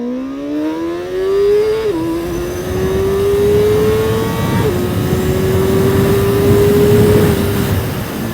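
A Cfmoto Voom 500 SR motorcycle accelerates hard at full power through a wheelie, its loud, close engine note climbing steadily with two brief dips at gear shifts.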